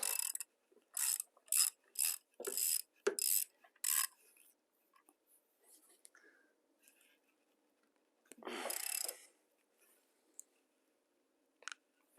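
A ratchet wrench clicks in quick bursts of several strokes during a water pump replacement on a Saab 9-3 with a B207 engine, close and crisp against quiet, followed by faint tapping and one more burst.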